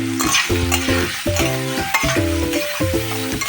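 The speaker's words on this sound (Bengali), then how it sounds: "দেখো এখন একটু করে এটাকে নাড়িয়ে চাড়িয়ে একটু ভেজে নেব" Dal with turmeric and salt frying and being stirred in a pan, a steady hiss with soft scraping, partly covered by melodic background music.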